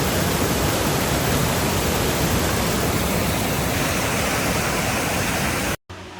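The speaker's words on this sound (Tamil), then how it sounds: "கண்டிப்பாக ஆனக்குளம் வந்தீங்கன்னா இந்த வாட்டர் ஃபால்ஸ் வந்து நீங்கள் குளிச்சு பாருங்கள்" Waterfall at Anakulam, Kerala, a dense, loud and steady roar of falling water filling the whole clip before cutting off abruptly near the end.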